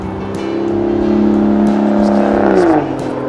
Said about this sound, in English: As you hear a nice V12 DB9 going up the hill.